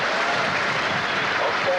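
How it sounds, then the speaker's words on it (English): A large crowd at the Rosehill horse races applauds a returning racehorse, a dense, steady, fairly loud wash of clapping that holds throughout. "He's coming back to a wonderful round of applause."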